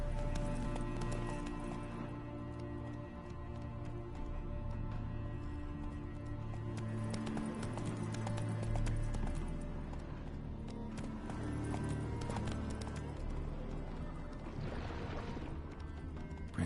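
Hooves of Roach, a horse in a video game, clip-clop steadily at a trot over a continuous bed of game music and ambience, loud and close throughout.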